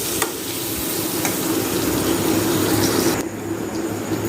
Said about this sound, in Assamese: হালধি দি মই এনেদৰে লৰাই দিছোঁ